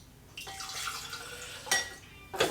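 Water being poured into a flower vase, a continuous splashing trickle that starts abruptly, with a couple of brief clinks or splashes toward the end.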